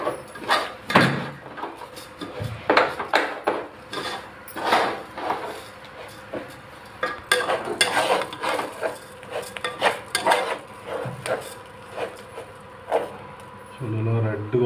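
Rice with whole spices, onion and ginger-garlic paste being fried and stirred in a pot for mutton pulao, with an intermittent clatter and scrape of a utensil against the metal pot while a voice talks over it.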